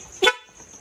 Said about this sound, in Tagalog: Yung stock horn natin